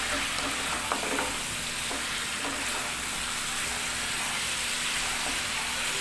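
Eggs frying in spiced oil for an egg curry, producing a dense, continuous crackling sizzle that stays steady and loud from start to finish, heard close up with no talking.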